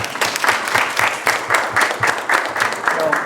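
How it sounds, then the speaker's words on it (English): A large event crowd applauds steadily throughout, dense and close, with the clapping pulsing slightly in waves. "So let's just give Joy and Jay a round of applause."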